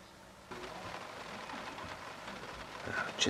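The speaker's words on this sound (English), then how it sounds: "the rain seems to be getting quite heavy now" Heavy rain falling in the African bush at a lion sighting, a soft steady hiss that thickens and grows louder toward the end, with faint scattered patters and no voices.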